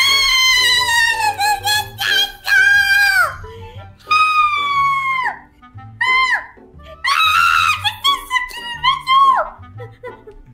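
A girl screams repeatedly in long, shrill bursts with a few short gaps, loud and close, set in a Minecraft vampire roleplay.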